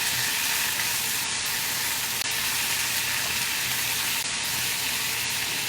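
Shakshuka of tomatoes and eggs simmering in a pan gives a steady, dense sizzle and bubbling hiss that runs evenly throughout, close and unbroken, with no voices.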